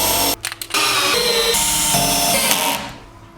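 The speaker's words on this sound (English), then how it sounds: "drill the last hole" A power drill bores a hole in a 3D printer enclosure. It whines loudly up close, cuts out in a few short stutters, then runs continuously before trailing off at the end.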